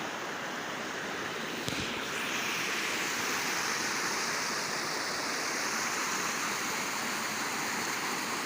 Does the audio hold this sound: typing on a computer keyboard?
no